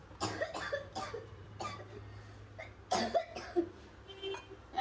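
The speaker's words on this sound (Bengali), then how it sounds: "কি কাশি কোন জায়গা দিয়ে আইছে" A person coughs repeatedly in a domestic setting, with several separate dry bursts spaced irregularly over a few seconds. The coughs are fairly quiet but close, with a low background hum.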